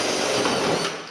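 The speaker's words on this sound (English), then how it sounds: "don't drill a hole in it. Well, yeah, that's too late. I'm already going to." Power drill boring a hole through an old Yamaha 350 motorcycle part, a steady, loud whirring grind held for about a second, close up with no voices.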